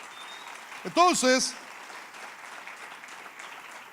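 A church congregation applauds as an offering of praise, a steady wash of clapping that sits low under a brief spoken word from the preacher.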